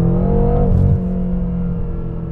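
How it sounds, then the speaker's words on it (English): A 2013 BMW M6 Coupe with 85,000 miles revs hard against its rev limiter, a loud, sustained engine drone that dips sharply near the one-second mark and then holds at a steady roar. "it will actually let you bounce off the rev limiter there"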